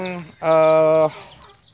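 Hens in a chicken coop beside a fish pond give a short clucking call, with one loud, drawn-out squawk in the middle, close and clear against a quiet background.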